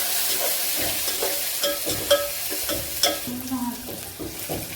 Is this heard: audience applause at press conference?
no